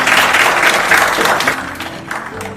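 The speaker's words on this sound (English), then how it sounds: "please give him a round of applause" A round of applause for judge Ranjit at a startup pitch event, loud dense clapping from a roomful of people that starts strong and gradually thins and fades.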